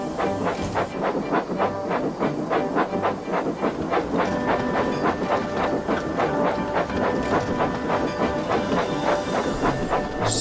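A toy steam engine on a wooden railway runs steadily along the rails with a rhythmic clickety-clack and a constant hissy rush, close and fairly loud throughout, with no voices.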